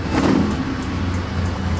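A Lotus Seven engine with twin carburettors, struggling to start in the cold, runs loud and close in a short, steady rumbling burst.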